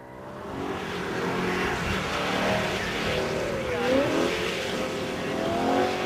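A BMW M3 driving through a cone gate course, its engine droning steadily close by with rising and falling revs and a faint tire squeal.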